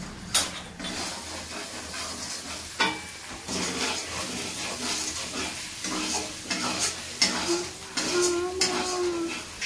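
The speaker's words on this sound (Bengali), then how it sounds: "কষিয়ে নেব মশলাটা।" Ground coriander, cumin and leaves being dry-fried in a pan, with a steady stirring scrape and soft sizzle running throughout, punctuated by occasional utensil knocks against the pan.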